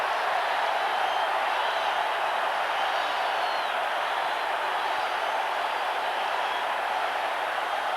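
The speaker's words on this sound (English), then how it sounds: "And the crowd goes wild." A large football stadium crowd at a 1988 Redskins–Giants game roars steadily after a long punt return, a dense, continuous wall of cheering that holds at full strength for the whole stretch without letting up.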